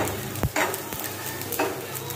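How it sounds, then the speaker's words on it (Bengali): Dried fish fries on a tawa over low heat with garlic and black cumin, giving a soft, steady sizzle broken by a few sharp scraping clicks from stirring, close by with no talk. "লোয়ার তাওয়ার গরমে শুটকি ভাজা শেষ"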